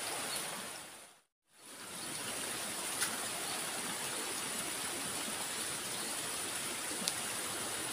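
River water rushes steadily past, a dense, even broadband roar close by that drops out briefly near the start and then continues unbroken.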